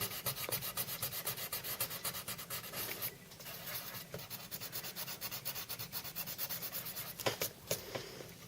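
Steady rubbing of a burnisher worked over coloured pencil on paper, a close, continuous scratchy friction with short strokes and brief pauses, no voices.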